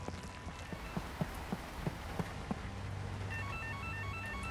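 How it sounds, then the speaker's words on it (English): An old telephone rings in the survival horror game Holstin, its repeated rings heard over dark ambient rumble and faint rain-like hiss, joined by a steady low hum and a pulsing electronic tone toward the end. "I hear a phone."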